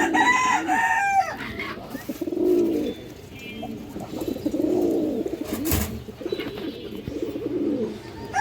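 Pigeons cooing nearby, repeated throaty rolling coos in a steady rhythm, with a rooster crowing briefly at the start and a voice talking in the background.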